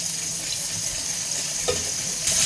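Oil heats in a kadai while preparing aloo kofta curry, giving a soft, steady sizzle with a faint stirring scrape near the end and no voices.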